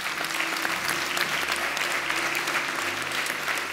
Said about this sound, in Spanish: un aplauso a esta señora.